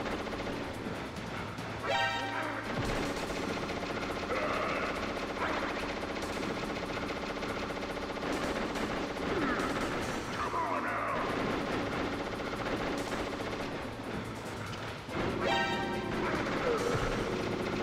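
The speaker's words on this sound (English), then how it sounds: "Oops, ran over my own bomb." A player's own bomb goes off in Metal Gear Solid, part of a dense, continuous barrage of loud gunfire and explosive blasts running throughout the game audio.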